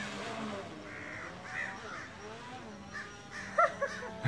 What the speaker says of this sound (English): The murder of crows is gonna take out the drone.